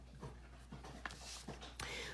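Excited pet dogs pant and whimper faintly indoors in short, irregular bursts, with quiet rustling around them.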